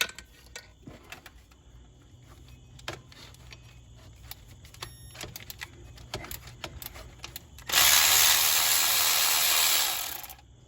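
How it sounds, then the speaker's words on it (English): Work on a Dodge Ram alternator plate: scattered metallic clicks and ratchet taps as 13 mm bolts are loosened, fairly quiet and close, ending in a burst of loud hissing air-like noise for the last few seconds. "We'll take that off and remove our 2 bolts. So these are 13."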